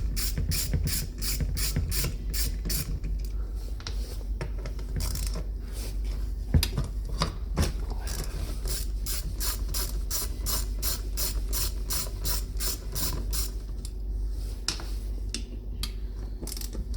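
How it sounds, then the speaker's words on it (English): A ratchet wrench clicks rapidly and steadily at close range while the electric window motor is removed from a Land Rover Discovery 2, with brief pauses in the turning partway through. "I need a ratchet. Let's go get a ratchet."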